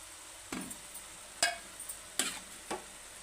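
Broad beans going into a pan of cooking mutton keema and being stirred, with four separate scraping, clattering stirs over a soft background and no talk.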